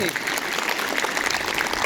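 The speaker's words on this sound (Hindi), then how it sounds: "एक बार जोरदार तालियों से" Brief, dense clapping from an audience, loud and continuous with no pauses.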